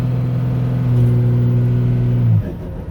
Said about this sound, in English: Truck boost pressure with air compressor.